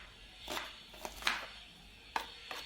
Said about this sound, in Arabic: نقصوا بصله صغيره مش كبيره.